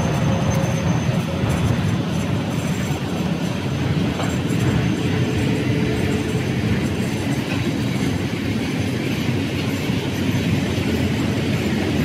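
A Hungarian MÁV passenger train carrying bicycle cars rolls past close by, with a steady loud rumble and clattering wheels that hold throughout.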